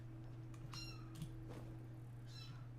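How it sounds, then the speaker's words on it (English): A cat meows a few short times, faint and a little distant, over a steady low electrical hum with no one speaking. "What you meowing about?"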